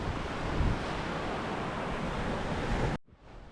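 Surf washing onto a secluded beach in Costa Rica, a steady broadband roar of breaking waves with wind, loud and continuous before cutting off abruptly near the end.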